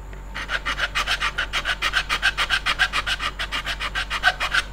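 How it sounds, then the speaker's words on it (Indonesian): A hand file rasps across a repaired, glued machete sheath to smooth it, steady rhythmic back-and-forth strokes, about four per second, close and clear with no talking. "Nah, ini kita kikir dulu aja, biar benar-benar rapi ya. Kita ratakan bekas lem-lemannya."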